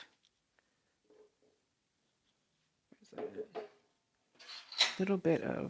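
Food being stirred and scraped in a bowl while mixing vegan lasagna filling, a few scattered clinks and scrapes that grow louder near the end, with a voice speaking alongside.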